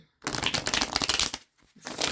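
Deck of cards shuffled close up during a tarot-style card reading, a dense riffling burst lasting over a second, then a brief pause and a second shorter riffle.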